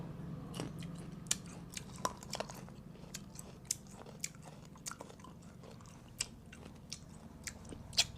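Crisp bites and steady chewing of crunchy pickled grapes, close and intimate, with sharp irregular crunches popping out over soft continuous mouth sounds.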